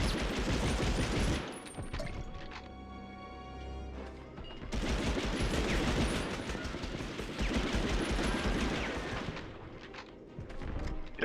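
Rapid bursts of enemy gunfire in the Medal of Honor Underground game, a dense machine-gun rattle with booming shots that keeps going with little pause across the whole stretch, loud and close.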